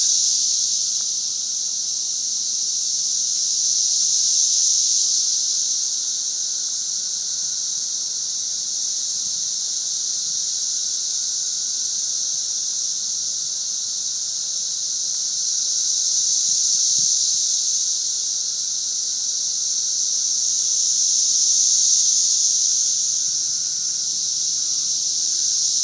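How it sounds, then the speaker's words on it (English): Loud cicadas buzz all around in a steady, piercing drone that swells and fades slowly in waves, continuous and without any voices. "Those are the cicadas. They're making their horrible, really loud noise."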